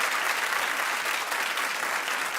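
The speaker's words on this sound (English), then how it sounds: "Clap if you are telling her don't do it." Studio audience at a daytime talk show clapping steadily, a dense, even wash of applause that holds at full strength throughout with no talking over it.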